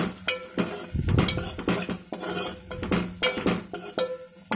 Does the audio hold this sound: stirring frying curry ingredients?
yes